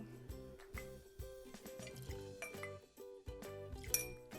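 O.F.T.D. rum poured into a glass, with close, quiet clinks and a trickling, dripping pour ringing against glass in short bursts.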